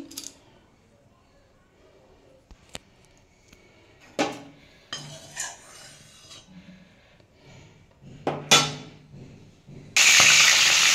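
A fish head goes into reused oil in a kadai, first with scattered clinks and scrapes of utensils, then a sudden loud, steady sizzle that holds to the end.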